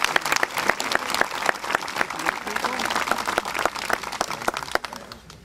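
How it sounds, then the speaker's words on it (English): Audience applauding Tony Brown at a golf invitational at a country club, steady dense clapping with a few sharper claps standing out, sustained near and loud for the whole stretch. "big round of applause"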